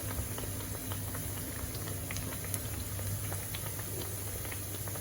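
Steady sizzling and bubbling of plantain frying in hot oil, a dense crackling hiss with scattered small pops, continuous and close throughout.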